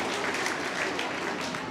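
Children at a school investiture ceremony applaud together, a dense, steady patter of clapping that fills the whole moment without a break.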